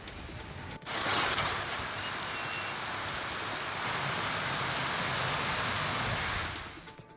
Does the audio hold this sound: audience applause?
no